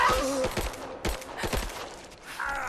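Enemy gunfire in Rise of the Tomb Raider, with repeated bursts of shots over about three seconds amid busy game sound, loud and close.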